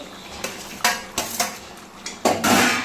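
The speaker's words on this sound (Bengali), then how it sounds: "এর মধ্যে আমি এই আলুটা দিয়ে দেবো।" Potatoes going into a pot of chicken being browned in its own oil, heard as a series of loud clanks and scrapes of a spoon against the pot over a faint sizzle.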